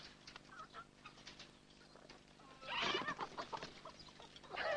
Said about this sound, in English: Chicken run, mate.